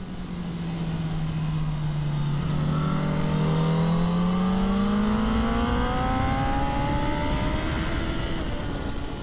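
A Honda motorcycle riding on a race circuit, its engine steady and loud, with the pitch climbing and shifting as it accelerates through the gears, close to the listener.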